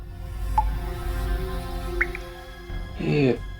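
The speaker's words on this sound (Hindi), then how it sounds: "ये पानी टपकने की आवाज है।" Water drips inside a closed flat, a few isolated, bright plinks spaced irregularly over a low hum, followed by a voice speaking close by.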